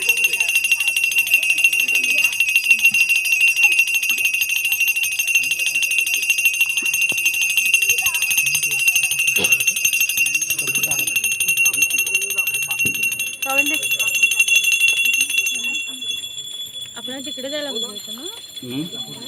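A continuous high metallic ringing of a bell persists almost throughout, loud and close, with voices and clatter underneath at a Ganesh immersion in Konkan; it cuts off near the end, leaving only voices.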